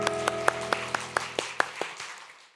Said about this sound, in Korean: 우리 박수해 주세요.